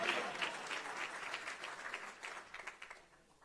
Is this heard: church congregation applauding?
yes